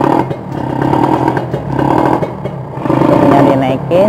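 A Kawasaki Ninja R two-stroke motorcycle that is hard to start idles and revs on choke, with a rough, buzzing engine note rising and falling under close, continuous talk.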